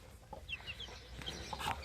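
Soft, faint clucking from a hen with newly hatched chicks, a few short calls over low background noise.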